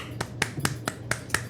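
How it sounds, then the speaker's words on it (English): A few quick hand claps at the close of a podcast, six sharp separate snaps about a quarter second apart, close and dry with nothing else behind them. "let's get a clap of hands"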